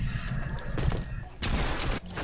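Gunshots in Fortnite, loud bursts of gunfire over busy game noise, with a heavier volley near the end.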